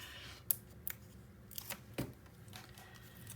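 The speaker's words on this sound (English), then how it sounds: "so now I'm just going to take the tape off" Tape being peeled off a paper page of a mini scrapbook album, heard close up as a few sharp tearing and crackling bursts spread across a few seconds over a quiet room background.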